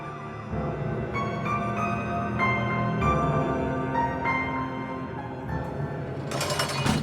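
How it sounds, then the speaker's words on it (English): Wailing police sirens rise and fall in layered tones, moderately loud, with a burst of noise near the end. "The whir of police sirens."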